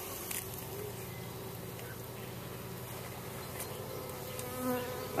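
Honeybees at an outdoor colony on a cold, damp morning give off a continuous soft, low buzzing hum, with scattered faint taps and rustles, quiet and close throughout.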